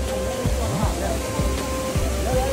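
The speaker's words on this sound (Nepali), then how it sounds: "अनि देख्न सक्नुहुनेछ धर्ना चाहिँ त्यो छ दामी छ।" Steady roaring rush of water at a waterfall near Dhap Dam, loud and continuous for the whole stretch, with a faint voice and some low rumbling underneath.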